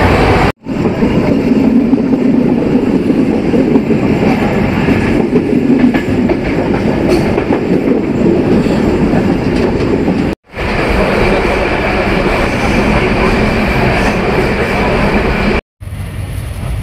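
Loud, continuous rumble and rattle of a moving non-stop Banalata Express passenger train between Dhaka and Rajshahi, heard from inside a carriage, with a steady clatter and two brief cutouts.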